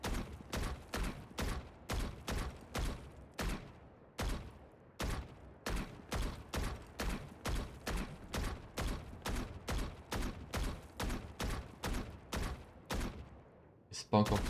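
Rapid video-game gunshots during shooting practice, sharp evenly spaced reports repeating in a steady rhythm, loud and close, with no talking over them.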